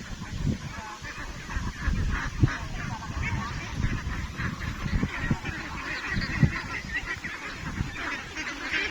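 Domestic ducks (itik) about two and a half months old calling together on pasture, a dense, continuous chorus of honking, quacking calls close by, with occasional louder single calls standing out.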